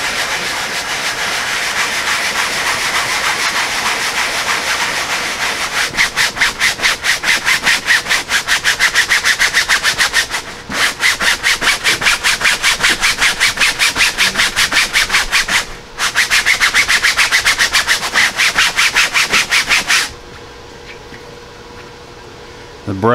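A brush scrubs the interior of a neglected Jeep Grand Cherokee in fast, rhythmic back-and-forth strokes, loud and close, with two brief pauses before a quieter stretch at the end.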